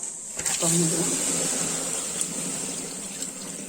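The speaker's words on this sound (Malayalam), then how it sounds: "പൈപ്പിൻ്റെ ചുവട്ടിൽ വെച്ച് തണുപ്പിക്കാം" Tap water runs steadily over a pot of cooked matta rice to cool it, a close, continuous hissing gush that lasts throughout while a voice talks over it.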